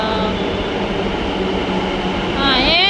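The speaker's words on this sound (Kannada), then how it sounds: "ಸೊ ಇವಾಗ ನಮ್ಮ ಮೆಟ್ರೋ ಬಂತು ನೋಡಿ, ನಾವು ಇದರಲ್ಲಿ ಹೋಗುದು ಇವಾಗ." A Bengaluru metro train rumbles steadily close by, with a rising metallic squeal near the end as it pulls in; a voice is faintly audible underneath.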